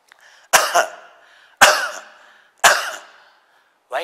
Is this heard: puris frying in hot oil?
no